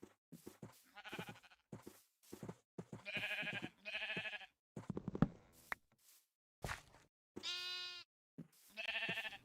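Sheep in the Minecraft video game bleat repeatedly in short, separate wavering calls, close and clear, spaced with brief silences between them.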